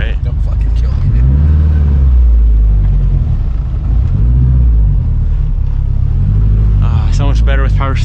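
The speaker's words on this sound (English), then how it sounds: "Now it sounds like an actual real car." Honda Civic Type R with an all-wheel-drive conversion being driven: a loud, close engine drone and low rumble that rises and falls with throttle, with a voice speaking at the end.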